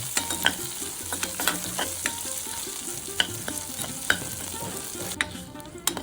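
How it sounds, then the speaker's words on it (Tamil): Shallots and curry leaves sautéing in oil for moringa leaf poriyal: a continuous close sizzle with frequent scraping and tapping of a spoon against the pan, with no voices. "இப்போது சின்ன வெங்காயத்தையும் இதில் சேர்த்துடலாம் கருவேப்பிலையும் இதோடு சேர்த்து வதக்கிக்கலாம்"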